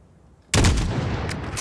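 A single sharp, loud sniper rifle shot in Call of Duty: Modern Warfare cracks after a near-silent pause, followed by a booming echo that rolls on and slowly decays, with faint clicks afterward.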